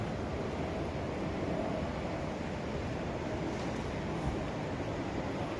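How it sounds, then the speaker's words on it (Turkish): A jet airplane passes near Istanbul Airport as a steady, broad roar that stays at a constant level throughout, with rushing wind-like noise and no speech. "Bir uçak geçiyor."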